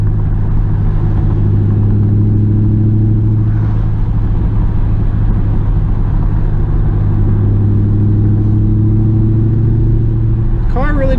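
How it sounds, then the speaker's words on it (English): A 2001 Pontiac Trans Am drives with the windows down, its engine a steady low droning rumble under road and wind noise, with a brief rising rev near the end and a voice talking throughout. "The windows down to try to capture more sound from the car."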